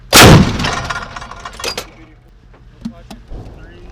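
A US tank fires its main gun in one sudden, loud close blast, followed by a decaying rumble and scattered metallic clanks and knocks.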